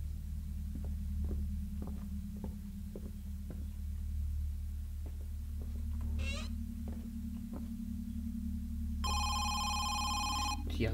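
In the horror game Home Sweet Home, a telephone rings briefly near the end over a constant low droning ambience, with faint thumps earlier in the clip.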